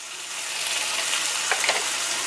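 Bitter gourd and potato sizzle steadily in a hot pan, a close, continuous frying hiss with a few brief crackles and stirring scrapes near the end.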